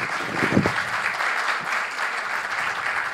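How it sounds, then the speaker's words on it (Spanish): Seminar audience applauding after a panelist's talk on journalism, a steady, even wash of clapping from a crowd that holds for about three seconds. "Con un aplauso"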